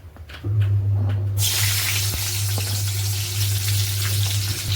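Green chilies hit hot oil in a pan, setting off a sudden loud, steady hiss of frying that carries on over a low background hum.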